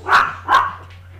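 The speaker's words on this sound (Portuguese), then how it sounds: "Manda cala a boca esses cachorros" Two sharp dog barks in quick succession, fairly close, followed by a fainter trailing yip, with a low steady hum underneath.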